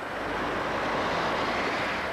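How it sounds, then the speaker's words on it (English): Storm wind and heavy rain from the remnants of Tropical Cyclone Barry in Central Queensland roar steadily as a dense, continuous wash of noise, loud and unbroken, with no voices. "Wind gusts of up to 50 kilometres an hour accompanied the deluge"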